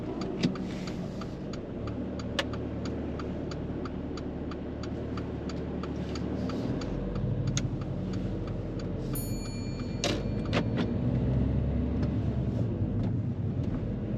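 A learner driver's car pulls away and turns right on a mock driving test, a steady low in-cabin engine and road rumble with a regular ticking indicator throughout.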